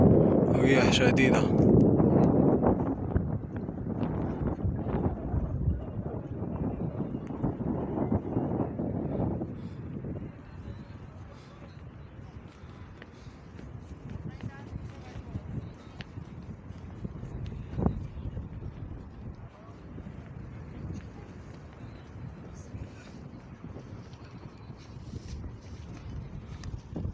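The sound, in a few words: strong wind blowing on Jabal al-Nour near Hira cave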